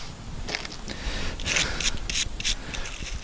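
A brush scrubs white gas stove parts in quick, rough, rhythmic strokes at moderate level, with light scraping and rubbing close by.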